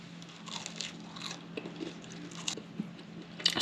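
Someone bites into a soft homemade pretzel and chews, with soft crunchy bites and moist chewing close to the mic, quiet and without talk.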